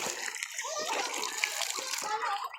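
Water pouring and splashing steadily into a container to give animals a drink, close by, with a voice talking over it.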